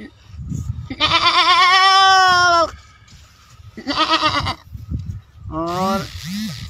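A man imitates a goat's bleat with three wavering, nasal calls, the first long and the others shorter, close and loud with pauses between.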